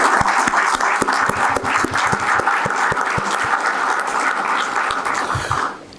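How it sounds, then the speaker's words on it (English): At an incubator forum inauguration, the audience breaks into loud applause, close individual claps standing out over a steady crowd wash that holds evenly and trails off at the end. "A really big hand of applause I would like everybody to do."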